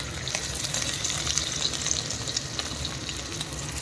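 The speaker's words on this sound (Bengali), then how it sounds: "এখানে হচ্ছে কাতলা মাছ ভাজা" Katla fish frying in hot oil, a steady close sizzle with dense crackling spatter that runs unbroken from start to finish, with no voices.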